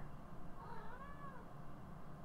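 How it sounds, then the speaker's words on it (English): A cat lets out a single drawn-out meow with a rising and falling pitch, faint and somewhat distant over a steady background hum. "And yes, Clive, there's a bit of a meowing there, isn't it?"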